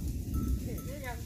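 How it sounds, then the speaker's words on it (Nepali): A few brief bleats from a sheep flock heading downhill on a Nepali hill farm, faint and close together at the end, under a voice and low outdoor rumble. "भेडी भेडा ओह्रालो लागे"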